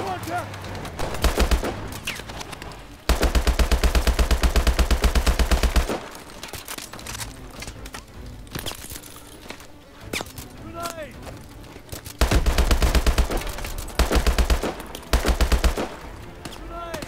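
Automatic weapon fire in Call of Duty: Advanced Warfare's Bio Lab campaign mission, loud sustained bursts of rapid shots in several volleys separated by quieter stretches, with voices speaking between the bursts.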